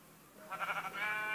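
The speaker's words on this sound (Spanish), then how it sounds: "necesito matar a una pobre oveja más" A sheep in the Minecraft video game lets out a short, wavering bleat at moderate volume, pulsing a few times before trailing into a steadier tone with no talk over it.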